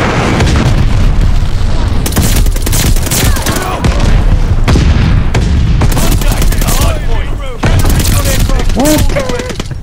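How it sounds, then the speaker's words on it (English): Dense, continuous in-game battle noise as a friendly glide bomber attack hits: loud booms and rapid overlapping gunfire with explosive bursts, steady and close throughout, with voices speaking in between. "Friendly glide bomber incoming."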